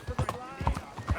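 Horse hooves clip-clop in a steady walking rhythm in the game Red Dead Redemption 2, close and fairly loud, with a voice speaking over the steps.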